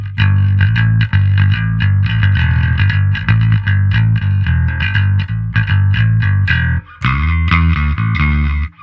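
Picked electric bass through a Gallien-Krueger bass amp simulator plugin, driven tone, a steady stream of punchy notes, loud and continuous, with a brief pause before a final phrase.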